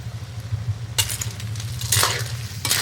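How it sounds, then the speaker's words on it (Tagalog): A spoon stirs ginataang snails in coconut milk in a pot, with a few scraping clinks over a soft simmer and hum. "Haluin natin."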